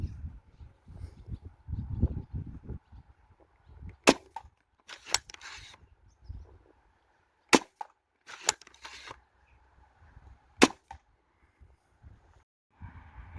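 Sharp, snappy shots from a Worker Seagull airsoft sniper rifle in a 2-joule setup, several isolated cracks spaced seconds apart over wind and handling noise, with a few quieter clicks between.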